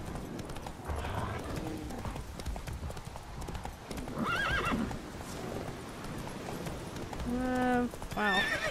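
Roach, Geralt's horse in The Witcher 3: Wild Hunt, clip-clopping hooves at a steady gait with several whinnies and snorts near the end, while someone talks over it.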